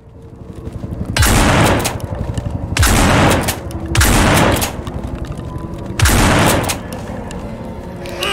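Video game gunfire rattles out in four loud, dense bursts, each lasting about a second and separated by short pauses filled with quieter game noise.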